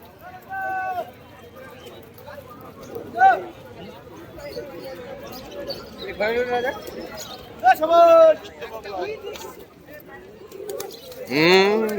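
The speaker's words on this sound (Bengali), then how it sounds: "দেখুন এই দেখুন একদম ঘোর মাতাল বাজি পায়রা" Tumbler pigeons cooing at a rural bird market, soft repeated coos mixed with the chatter of a busy crowd while someone talks over them.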